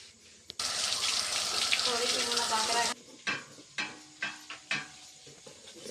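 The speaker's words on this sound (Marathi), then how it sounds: "एवढा कढीपत्ता काढून आणलेला आहे. आता तो धुवायला हवा" Curry leaves picked from a roadside tree are rinsed under running water, a loud steady gush for about two seconds, then a series of soft splashes and clatters as the leaves are handled, with no talking.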